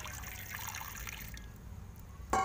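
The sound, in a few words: pouring water into pot for boiling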